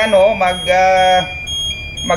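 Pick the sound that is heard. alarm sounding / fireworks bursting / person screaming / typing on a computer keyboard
alarm sounding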